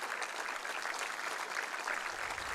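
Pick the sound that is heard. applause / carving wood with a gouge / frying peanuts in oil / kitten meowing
applause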